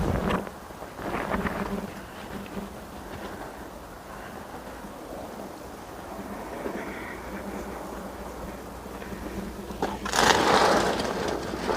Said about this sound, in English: the wind it is very windy already